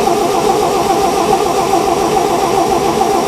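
An old REO truck engine cranks without firing, its starter turning a steady, loud, continuous churn that goes on throughout with no catch and no voices, after a refurbishment and with a suspected faulty fuel pump.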